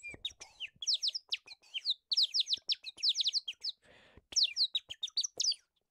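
A plastic bird whistle half-filled with water produces rapid warbling trills in short bursts, close and clear, mimicking birdsong with brief pauses between phrases.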